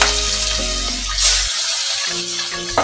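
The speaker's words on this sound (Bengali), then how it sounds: "ভেজে নিচ্ছি।" Shrimp coated in salt and turmeric fry in oil, giving a continuous close sizzle with a faint underlying hum and a few soft clinks from stirring.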